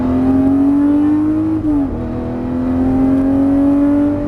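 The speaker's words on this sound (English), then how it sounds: "All right, now full throttle, don't lift your foot." Lamborghini Murciélago accelerating at full throttle out of a corner, a loud sustained engine note climbing steadily in pitch, briefly dipping at a gear change before rising again.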